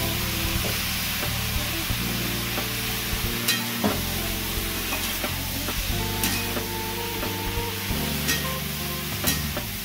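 Chopped bottle gourd frying with spices in a pan, a continuous close sizzle broken by repeated scraping stirs and light clinks of the spoon, with no talking, plus a steady low hum underneath.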